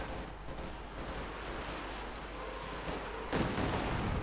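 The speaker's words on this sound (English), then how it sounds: "Katyusha barrage going down." Rocket barrage from Soviet Katyusha launchers in the strategy game Company of Heroes 2: a sustained roar of launches and rumbling impacts, with a heavier burst near the end.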